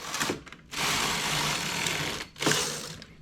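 A knitting machine's carriage is drawn across a row after the collar needles are lowered by hand, giving a steady mechanical whir that runs for about a second and a half between shorter clattering passes, close and fairly loud.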